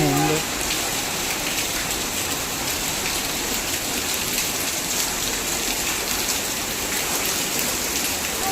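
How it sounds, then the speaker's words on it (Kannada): Steady, dense evening rainfall patters on surfaces throughout, a constant wash of drops with no breaks, fairly close and moderately loud. "ಸಾಯಂಕಾಲ ಆಯಿತು ಮಳೆ ಕೂಡ ಶುರು ಆಯಿತು"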